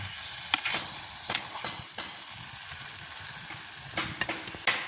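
Food frying in a pan over a village cooking fire, with a steady loud sizzle and hiss and occasional sharper pops and stirring scrapes close by.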